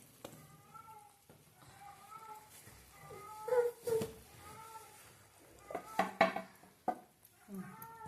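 A cat meows repeatedly, fairly faint, in a home kitchen where chickpea flour curry is being made, with dishes clinking softly and people talking nearby.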